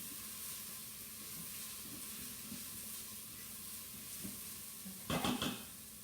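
Garlic frying in a pan for chicken tikka masala, a quiet steady sizzle with a short burst of stirring and scraping near the end.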